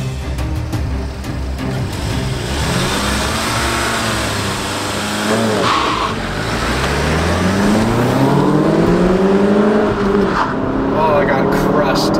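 Chevrolet Bolt electric car and Volkswagen Golf GTI in an amateur drag race: a loud, continuous engine drone climbs in pitch under heavy wind roar, heard close from inside the moving car.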